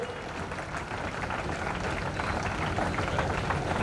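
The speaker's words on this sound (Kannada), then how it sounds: "ಜೋರಾದ ಚಪ್ಪಾಳೆ ನಿರಂತರವಾಗಿ ಆ ಮಾನ್ಯರಿಗೆ ಸಲ್ತಾ ಇರಬೇಕು." A festival-stage audience in Karnataka gives loud, sustained applause, a dense steady wash of many hands clapping with no break.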